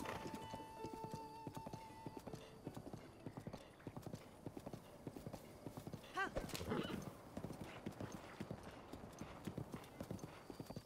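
In Breath of the Wild, the horse Epona gallops in rapid, rhythmic hoofbeats that run steadily throughout at low volume. A whinny rises about halfway through, with faint game music underneath.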